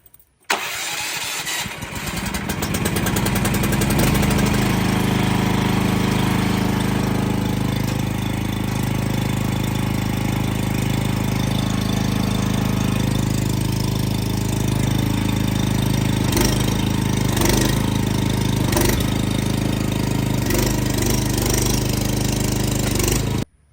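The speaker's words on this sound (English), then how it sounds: "I'm gonna go ahead and turn on the engine so I can operate the hydraulics" A truck engine is started to run the hydraulics of a Shocker towing hitch. It cranks and catches, then settles into a loud, steady idle with a low rumbling drone, close by and unbroken for over twenty seconds.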